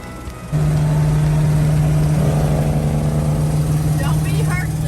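Engine of a vintage RV starting to pull out, a steady loud drone with a strong low hum that begins abruptly after a quiet moment and holds throughout, with speech-like sounds over it.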